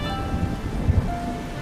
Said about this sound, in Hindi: बारिश बहुत ज्यादा तेज थी।